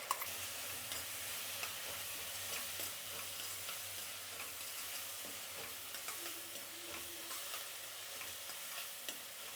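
Ground green chili and tomato masala sizzles as it fries in a pan, a continuous close crackling hiss with frequent small stirring scrapes and taps, no voices.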